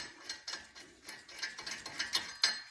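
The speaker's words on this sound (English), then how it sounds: "Now we can take this lug nut off." A ratchet works a lug nut off the front wheel of a 2016-2022 Lexus RX350 or RX450h, giving close, rapid clicking pawl strokes in an uneven rhythm.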